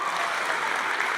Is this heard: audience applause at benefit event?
yes